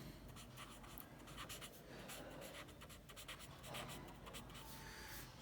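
A pen scratches steadily across paper while an accounting journal entry is written by hand, a soft, continuous scribbling with short strokes and brief pauses, close and quiet, with no speech.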